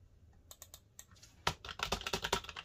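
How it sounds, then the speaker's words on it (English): Keys on a computer keyboard connected to a Poco X3 phone clatter close by, first a few sparse taps and then a quicker, louder burst of rapid typing, with no voices. "the keyboard and mouse is actually working properly, and it's connected to the Poco X3 only"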